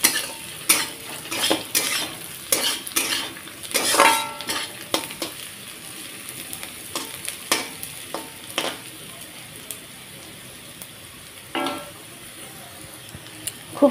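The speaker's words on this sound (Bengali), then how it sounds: "কালো জিরাটাকে দিয়েও আবারও আর একটুখানিক্ষণ ভেজে নেব" Onion and nigella seeds frying in a pan for a Bengali puti fish chorchori, with soft sizzling under repeated scraping and clinking stirs of a utensil against the pan, close and fairly quiet.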